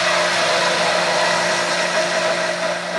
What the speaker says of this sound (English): as soon as you turn on the immersion blender, it'll start to emulsify